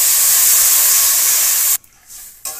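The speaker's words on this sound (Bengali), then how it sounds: "এবার জল দিয়ে দেবো।" Water poured into a pan of potatoes fried for a pangas fish curry sets off a loud, steady hiss that cuts out abruptly, then returns briefly at a lower level.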